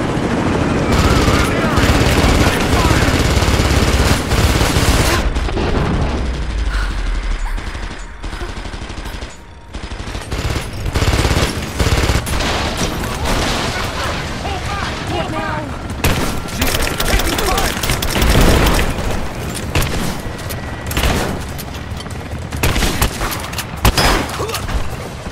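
Sustained gunfire in Rise of the Tomb Raider, dense bursts of automatic weapons and heavy booms, loud and nearly continuous with a brief lull, while shouted voices carry over the shooting.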